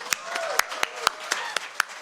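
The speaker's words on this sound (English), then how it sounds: "can we give a round of applause to the coalition staff for the great work they've been doing?" Scattered hand clapping from a small group at an official briefing, about ten sharp, evenly spaced claps in a quiet room, nearby and moderately loud.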